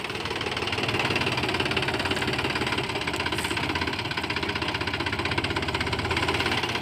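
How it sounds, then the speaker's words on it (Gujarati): A tractor engine runs in gear, giving a steady, close, knocking chug with a constant rumble and no voices. "આવો પેલા ગેરમાં વારે છે ટ્રેક્ટર"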